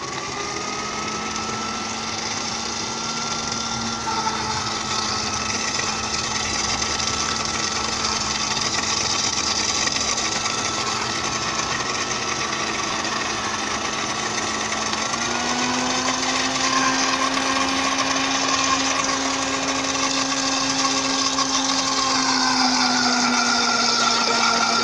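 A blender whirs steadily while beating lemon mayonnaise as oil is added in stages, its motor holding a constant drone that shifts up in pitch partway through and continues without any talk.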